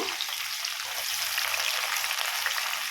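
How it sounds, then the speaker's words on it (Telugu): Onions and green chillies frying in hot oil for a fish curry, a close, steady bright sizzle and crackle that continues without a break, with faint low knocks underneath. "ఆయిల్ మరిగింది ఉల్లిగడ్డ పచ్చిమిర్చి ముందుగా వేసుకుందాం"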